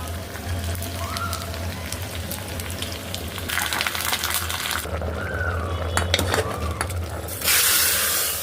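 Mustard seeds, cumin and onion sizzle in hot oil in a pan, a steady crackling hiss with scattered seed pops and clinks of a utensil, growing louder near the end.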